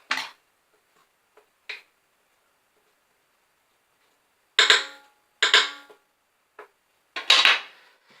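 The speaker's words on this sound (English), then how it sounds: "you can probably just get away with just bashing it on the edge to get all those clumpy bits off" A whisk bashed against the edge of a mixing bowl while making lemon and elderflower buttercream, a handful of sharp close metallic taps in irregular clusters separated by silence.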